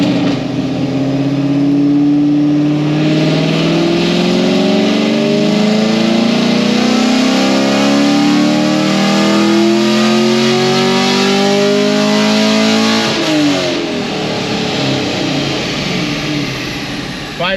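A cammed flex-fuel car engine revs hard through a long dyno pull, its rising harmonic roar loud and close for over ten seconds before the throttle closes and the note drops away.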